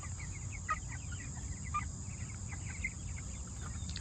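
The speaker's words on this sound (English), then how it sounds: "Out here pecking and scratching, doing what chickens do." Pasture-raised chickens out in a field give soft, scattered clucks and chirps over a steady outdoor background hum, with a rooster-like call now and then.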